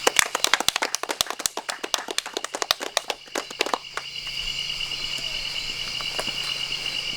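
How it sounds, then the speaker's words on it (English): A small group claps in loud, uneven bursts of sharp hand claps for about four seconds before fading into a steady outdoor insect chirring, with crickets continuing after the applause stops. "A round of applause for yourselves."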